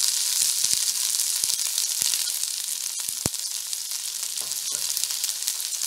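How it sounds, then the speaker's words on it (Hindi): Vegetables including capsicum, cabbage and peas frying in oil in a kadai on high flame, a steady close sizzle with occasional sharp crackles and stirring clinks, no talk. "अब इनको हाई फ्लेम पे हम फ्राई कर लेंगे।"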